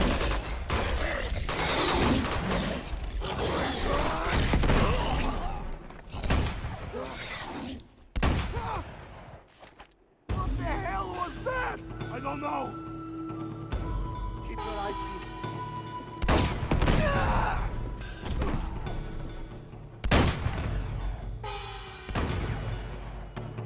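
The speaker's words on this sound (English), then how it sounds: "What the hell are they shooting at?" Gunfire rips through a battle in Uncharted 2: Among Thieves, with loud repeated bursts and automatic volleys, heavy thumps and brief pauses, and voices shouting among the shots.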